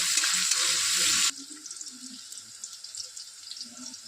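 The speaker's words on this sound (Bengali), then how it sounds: "কড়াইতে তেল নিয়ে নিয়েছি, তেল গরম হয়ে গেছে। এবার ধীরে ধীরে এক একটা করে সবজি ভেজে নেব।" A loud, hissing sizzle of cauliflower and carrot hitting hot oil in a wok fills the first moment, then settles into a quieter crackling fry with faint clinks.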